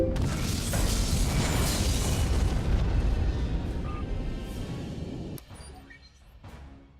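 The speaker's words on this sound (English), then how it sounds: "Romulan target destroyed." A Romulan ship exploding in Star Trek Legacy, a loud sustained roaring blast that rumbles on for several seconds, then fades into quieter crackles and a couple of faint pops.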